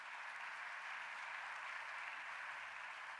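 An audience at an astronomy society plenary session applauds the awardees. The clapping is faint and distant, a soft, even wash that holds steady for the whole moment with no talk over it.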